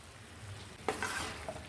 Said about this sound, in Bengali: বিরিয়ানি মশলা দিয়ে ভালো করে মিশিয়ে নেব।